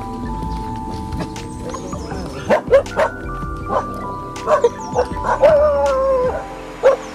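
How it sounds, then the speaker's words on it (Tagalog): Many dogs bark and yip close by at Saint Anthony Falls in Indang, Cavite, in irregular bursts, some whining, with a voice briefly audible amid the commotion. "Apakadaming aso."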